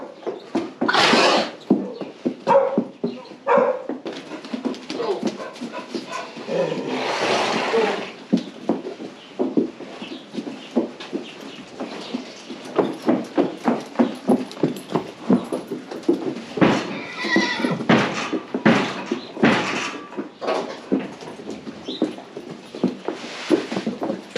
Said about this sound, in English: We're gonna get started letting out the horses.